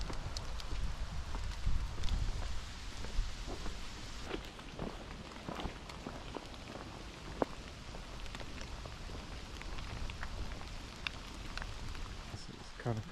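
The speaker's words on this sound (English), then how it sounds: "Autumn trees through mist and rain." Rain patters lightly and steadily on an autumn woodland walk along an avenue of trees in mist, a faint diffuse hiss with scattered drips and soft footsteps throughout.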